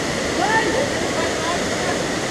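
Steady, broad rushing of the Cachoeira do Desterro waterfall in Cunha, São Paulo, running at low water volume, heard continuously at moderate level, with a faint voice briefly rising over the roar.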